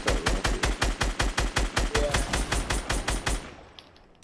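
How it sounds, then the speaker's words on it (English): Video game minigun firing a rapid, steady burst of around twenty-five evenly spaced loud shots over three and a half seconds, then cutting off into a fading tail. "Minigun"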